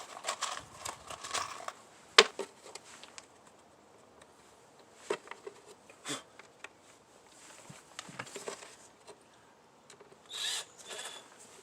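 Power drill driving long screws into 2x4 lumber for model railroad benchwork, heard as several short bursts of whirring and clicks with pauses between, fairly close and moderately loud.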